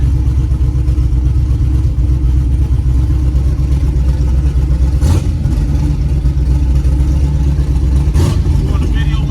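A twin turbo LS engine idling in a G-body car, a loud steady rumbling drone throughout with a couple of brief louder bursts and voices in the background.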